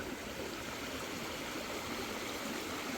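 Steady rushing water pours through a Flower Gold Wizard cleanup sluice at an outdoor gold-prospecting dig in Washington, a constant close hiss with no talking.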